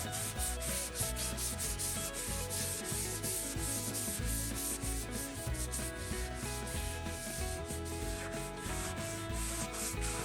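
A damp rag rubs back and forth over a dyed flame maple guitar top in steady, rhythmic strokes, close and continuous, with no voices.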